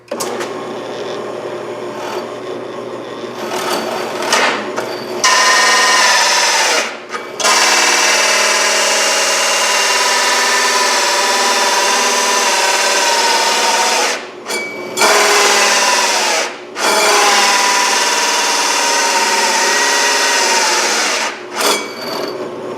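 A 3.5 inch hole saw, going a little dull, cuts through a transplant tray with a loud, continuous buzzing whir in long runs broken by short pauses, close up with no talk.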